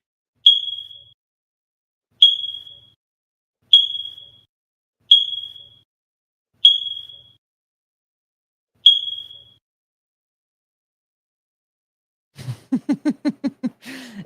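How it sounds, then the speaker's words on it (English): Smoke detector low-battery chirp played from a soundboard: six short, high, identical beeps spaced about two seconds apart, clear and isolated against silence, followed by a brief burst of unrelated voiced sound. "Change your smoke detector battery. It's part of the soundboard now."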